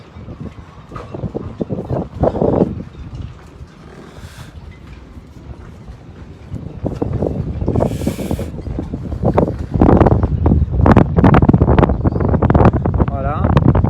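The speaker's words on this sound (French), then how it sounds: "j'imagine que vous m'entendez plus bien à cause du vent" Strong wind buffets the microphone in rumbling gusts, growing louder toward the end, with someone speaking intermittently underneath.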